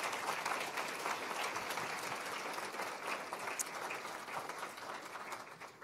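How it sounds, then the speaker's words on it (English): A conference audience applauds keynote speakers in a steady, dense wash of clapping that fills the hall, heard at a distance and fairly faint, with no speech on top. "can we have a hand of applause for David Fine and for Jennifer Musisi"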